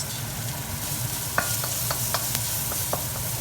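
Onions and vegetables stir-frying in a wok, a steady sizzle with several light scraping stirs spaced through it, close and fairly quiet.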